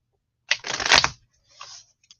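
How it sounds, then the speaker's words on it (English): A deck of cards being shuffled by hand, a close burst of dense riffling and flapping lasting under a second, then a shorter, softer second riffle, with no talk. "let me shuffle them again"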